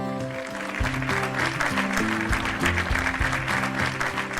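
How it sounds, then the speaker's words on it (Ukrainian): Wedding guests applaud the bride as she enters, a steady clapping of many hands layered under loud, rhythmic music that continues throughout. "Давайте скупаємо її в аплодисментах."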